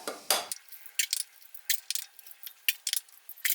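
A utensil whisks eggs and milk in a bowl, giving light, quick metallic clinks and scrapes in an irregular rhythm, faint and close.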